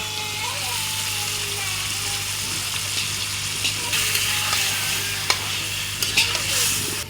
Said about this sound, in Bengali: এখন আমি আলু দিয়ে দিব